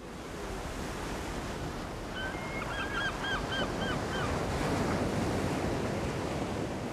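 Wind and surf roll steadily along a windy coast, a constant broad roar of breaking waves, with a brief faint run of bird calls in the middle and no talk.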